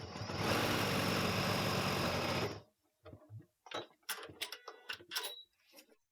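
Sewing machine stitching thick dark blue fabric for foundation piecing, a loud continuous mechanical whir lasting a few seconds, then stopping and giving way to scattered light handling clicks and rustles.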